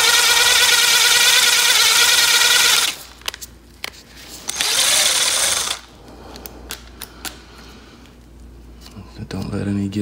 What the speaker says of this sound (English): this is the only drill I have